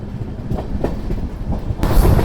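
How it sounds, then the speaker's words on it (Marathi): The 22934 Bandra Terminus SF Express pulls out of Kota Junction with loud, close rumbling and rhythmic clickety-clack of wheels over rail joints, rising louder toward the end, with no speech. "तर बरोबर 5 वाजता आपली ट्रेन कोटावरून सुटले"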